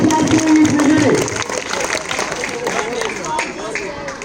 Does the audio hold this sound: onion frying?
no